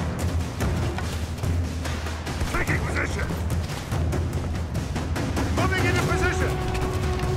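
Dense rapid gunfire and heavy booming shots from a combat video game fill the stretch steadily and loudly, with a voice calling out over the battle.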